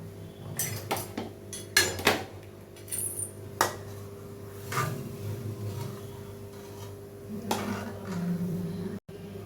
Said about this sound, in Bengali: আবারও একবার ধুয়ে কালো জলটাকে ফেলে দিয়ে এরকম জল ঝরাতে রেখে দিয়েছি দুধটা একটু নেড়ে দেবো